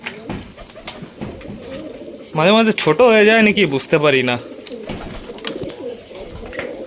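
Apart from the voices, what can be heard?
pigeon cooing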